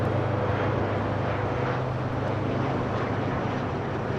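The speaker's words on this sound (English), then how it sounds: "321 taking off to Las Vegas. It's on a regional jet 135 LR." A JSX Embraer 135 LR regional jet taking off for Las Vegas, with a steady loud jet roar and a low engine hum filling the whole stretch without a break.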